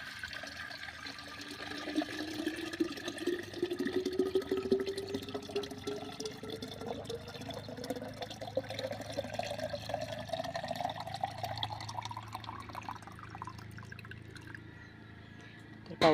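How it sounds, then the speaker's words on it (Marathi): Water is poured into an old, reused clay water pot set under a mango tree, with a steady gurgling fill whose pitch rises as the pot fills, continuing for about fifteen seconds without talk. "आता त्या माठामध्ये आपण छानपैकी पाणी भरणार आहोत"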